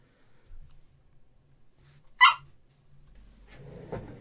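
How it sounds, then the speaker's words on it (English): A single sharp dog bark pops out of near silence, followed later by a faint rustle and a small yelp-like sound. "So he'll just stand there and like bark at the floor."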